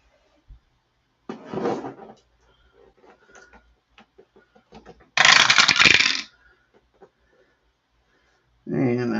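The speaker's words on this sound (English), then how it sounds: "And we just dropped the dice" Dice are dropped and clatter across a table during a tabletop baseball simulation game, in two sharp rattling bursts separated by quiet ticks, with a person talking near the end.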